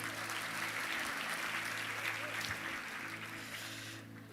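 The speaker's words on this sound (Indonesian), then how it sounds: "Kasih tepuk tangan dong buat Tuhan." Audience applause at a youth conference session, a dense, steady wash of many hands clapping for about four seconds before thinning out at the end.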